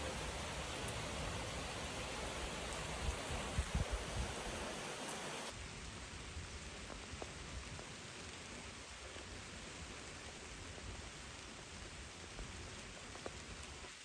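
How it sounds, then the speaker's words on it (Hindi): Steady rain falling in a forest, a soft, even hiss of drops on leaves and ground that continues throughout, with occasional louder drips nearby. "जंगल में मंगल हो गया, बारिश हो गई है"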